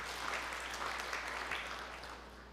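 Congregation applauding during a church sermon, a dense, steady wash of many hands clapping at moderate level, fading slightly toward the end.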